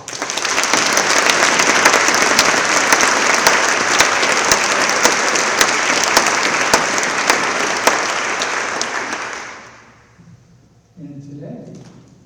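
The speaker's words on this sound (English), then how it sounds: "Could we give them a round of applause?" An audience at a college presidential announcement gives a loud, sustained round of applause that holds for about ten seconds, then dies away quickly before a speaker's voice resumes.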